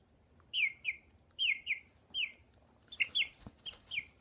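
Three-week-old chicks being handled give repeated short, high peeping calls in quick pairs and clusters, close and clear over a quiet background.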